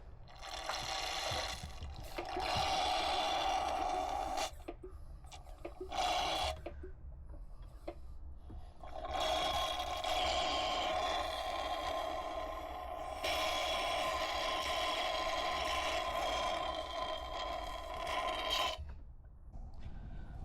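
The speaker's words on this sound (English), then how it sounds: "Just use a vacuum pump to suck that out." A vacuum pump sucks residual oil out of a Sea-Doo watercraft's oil filter housing, giving gurgling, slurping liquid bursts with short pauses between them, close and fairly quiet.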